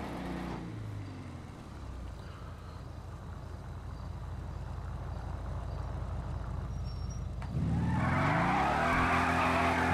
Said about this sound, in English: Well, can do burnouts at least.